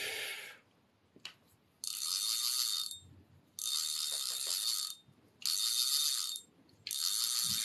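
A fishing reel's mechanism whirs in bursts as line is wound on while changing it, a close, bright ratcheting spin repeated in several second-long runs with short pauses between.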